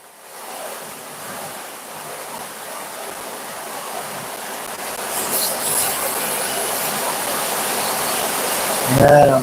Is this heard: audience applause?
no